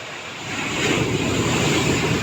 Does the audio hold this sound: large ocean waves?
yes